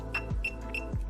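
A slower beep pattern comes from an ANCEL PB600 power probe tester indicating power: a few short electronic tones spaced about a third of a second apart, fairly quiet over a faint background hum.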